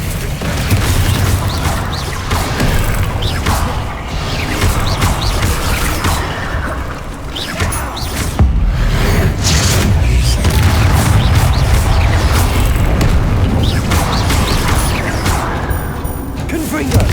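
Repeated Confringo blasting-spell explosions in the Hogwarts Legacy video game, a dense run of booming bursts and thuds over a constant loud rumble of combat that goes on throughout.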